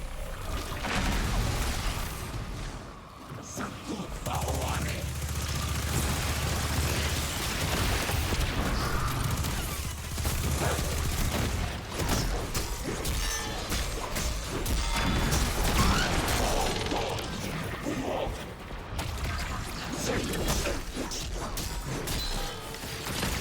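Grenade launcher blasts, crashes and mechanical weapon clatter from the Destiny 2 video game layer into a busy, continuous stream of booms and impacts, with a low droning tone underneath for part of the stretch.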